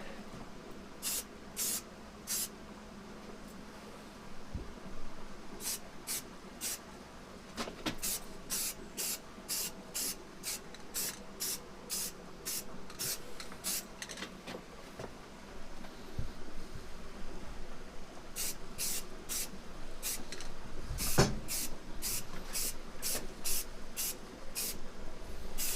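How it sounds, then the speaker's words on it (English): A spray paint can fired in short test bursts before painting a motorcycle helmet: a dozen or so quick, sharp hisses in rhythmic runs with pauses between, close and crisp over a low background hum. "All right, couple of test sprays over here."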